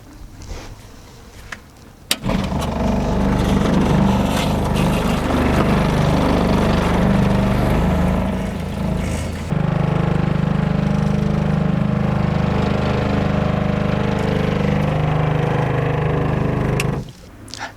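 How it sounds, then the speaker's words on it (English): A pump switches on and runs loud and steady for about fifteen seconds, siphoning four gallons of water back into an RV freshwater holding tank, then cuts off with a click. "we're going to go ahead and hit the pump and get this 4 gallons siphoned back into our freshwater tank"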